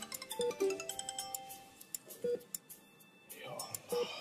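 A mobile phone rings in a hospital setting before an operation, a repeating electronic tone sounding in short bursts at moderate volume while people talk over it.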